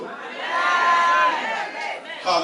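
Church congregation at a Wednesday worship service cheering and acclaiming, a loud swell of massed voices that rises, holds, dips briefly and surges again near the end.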